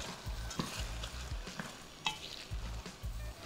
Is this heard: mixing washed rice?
yes